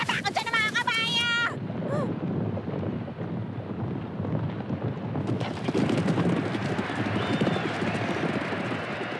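Racehorses gallop in an anime race, a dense, continuous rumble of hooves with wind-like noise. Voices and a brief musical or vocal tone sit over the start.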